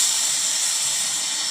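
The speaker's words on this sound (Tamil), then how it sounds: "அந்த ஸ்டீம் வந்து அடங்குற வரைக்கும் வெயிட் பண்ணலாம்." A pressure cooker cooking mappillai samba rice releases steam in a loud, steady, high-pitched hiss that stays even and close throughout the short burst, with no voices.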